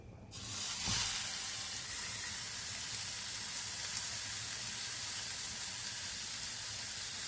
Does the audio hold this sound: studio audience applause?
no